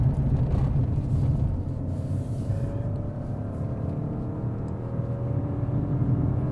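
Inside a Peugeot 2008 with a 1.2-litre turbo engine, a low road rumble and drone fills the cabin as the car brakes, and faint rising engine tones mark automatic downshifts under steady background noise.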